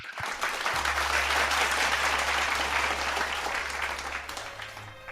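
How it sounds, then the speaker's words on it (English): Loud, sustained applause from a seminar audience greeting a regional vice president, dense clapping filling the room for several seconds and fading slightly near the end. "Let's give him a round of applause."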